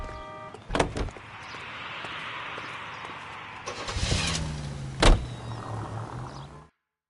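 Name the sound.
car driving in the video game L.A. Noire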